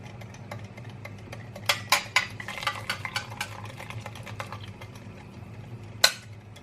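A ladle stirs Anatolian erzak soup, or its egg-and-lemon liaison, with a run of soft metallic scrapes and clinks clustered near the middle and one sharper clink at the end, over a low background hum.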